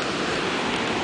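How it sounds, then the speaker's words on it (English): Ocean surf with big waves near head high, a steady broad roar of breaking water, loud and continuous. "big waves were like almost head high"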